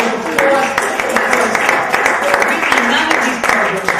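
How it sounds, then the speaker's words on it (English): Audience applause at a poetry reading, loud sustained clapping from a crowd across the whole stretch, with a few voices underneath. "Let's give her a round of applause."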